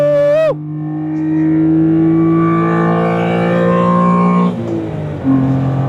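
A Honda Beat's small engine is held at a high rev near 8,000 RPM, droning loud and close in one strained tone before it drops briefly and picks back up.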